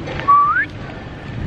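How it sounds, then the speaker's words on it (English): A pet parrot whistles one short, clear rising note, loud and close, followed by quiet room background. "I love that whistle. I taught that to her when she was young."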